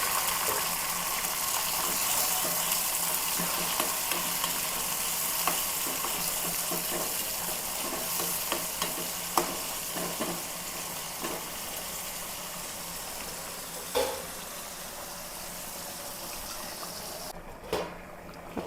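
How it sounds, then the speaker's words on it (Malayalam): Five to eight shallots sliced into rings and two sprigs of curry leaves fry in hot oil, making a loud, continuous broadband sizzle with occasional small pops and spatula knocks, with no talking. "ഒരു 5-8 ഉള്ളിയാണ് വട്ടം വട്ടം അരിഞ്ഞതാണ് ഇട്ട് കൊടുക്കാം"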